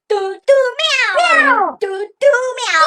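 A voice imitates a cat, meowing over and over in quick, drawn-out, nasal cries, close and loud with brief pauses between.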